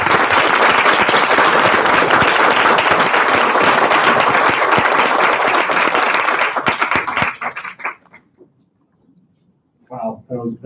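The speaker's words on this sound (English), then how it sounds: "Another round of applause, please" Audience at the 2018 ATI Conference applauding after a keynote, with loud sustained clapping for several seconds that thins out and stops, followed by a voice speaking.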